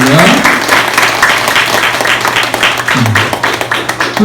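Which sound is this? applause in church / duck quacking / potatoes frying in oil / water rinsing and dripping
applause in church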